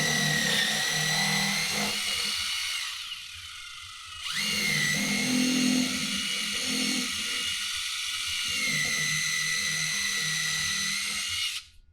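Close, loud whine of an electric drill pre-drilling a screw hole in a stage platform leg, running for several seconds, dipping briefly in pitch and load midway, then continuing steadily until it stops.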